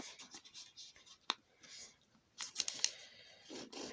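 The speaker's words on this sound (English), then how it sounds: "We take this flap, fold it to the middle." Paper flap being folded for an origami Plantera bulb: soft, quiet crinkles and scratchy creases in a few short bursts, close and faint, with no talking.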